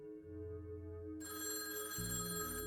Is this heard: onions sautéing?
no